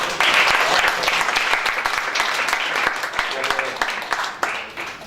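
An audience in a school lecture hall bursts into sustained, dense applause celebrating students' university admissions, loud and steady throughout with a few voices mixed in.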